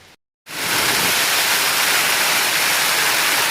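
Heavy rain in a storm roars as a loud, steady broadband hiss, starting abruptly after a brief moment of silence and continuing unbroken and close.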